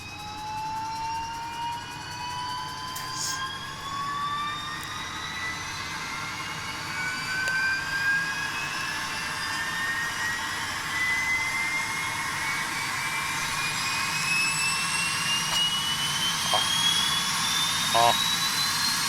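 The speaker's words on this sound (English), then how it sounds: "I want you guys to listen to the APU sounds because this thing is badass for this plane" Auxiliary power unit of a JAR Airbus A330 in X-Plane 11, heard from outside the aircraft: a steady jet-engine whine and roar with a high tone climbing slowly as it spools up, continuous and fairly loud throughout.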